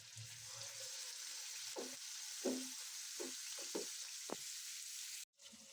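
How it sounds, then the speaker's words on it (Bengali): Fish seasoned with turmeric, chili and salt fries in hot oil with a steady, close sizzle, broken by a few soft stirring knocks and clinks. No one speaks. "কিছু না, জাস্ট হলুদ, মরিচ আর লবণ দিয়ে মাছটা ভেজে নিব"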